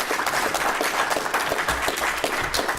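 An audience at a public service loan forgiveness announcement applauds steadily for nearly three seconds. The clapping is dense and even, with no one speaking.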